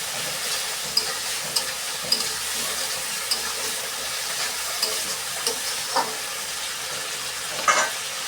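Vegetables and spices with chili powder cooking in a pan with water, a steady bubbling hiss and sizzle close by, punctuated by regular light taps of a stirring spoon.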